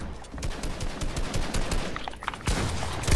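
Gunfire in a Fortnite Zone Wars arena match, rapid sharp shots crackling in uneven bursts over busy game noise, with a louder cluster of hits late on.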